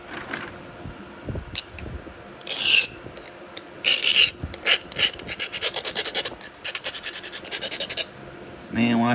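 Hornstone flint edge being abraded and filed during knapping, a series of close, dry scraping and rasping strokes, some quick and rhythmic, with faint background noise between them.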